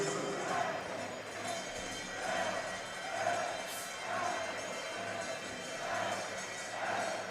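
An arena crowd at a men's ball hockey world championship game during a timeout, with steady broadband roaring and cheering that swells and ebbs in waves, continuous throughout.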